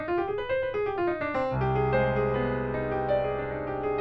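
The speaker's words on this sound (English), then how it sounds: "Then there's one more minor scale, it's called harmonic minor." A harmonic minor scale is played as quick single notes stepping upward, then gives way to a sustained, ringing chord that holds to the end, clear and alone with no voices.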